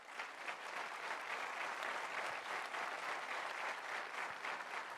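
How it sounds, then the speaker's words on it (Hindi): An audience claps after a talk, a dense sustained round of applause that holds steady throughout without voices on top. "तालियां दो टाइप की बजती थी"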